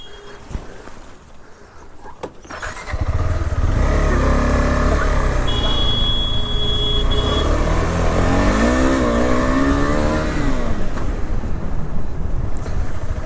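A car drives past on a road near a Hindi-speaking group, its engine rising to a loud, sustained roar after a few seconds and holding steady, with a faint whine and voices underneath.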